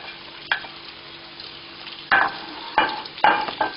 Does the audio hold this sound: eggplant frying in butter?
yes